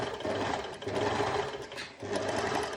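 An overlocker sewing machine stitches a test seam in fast, buzzing bursts that briefly dip and then resume, loud and close with no talk.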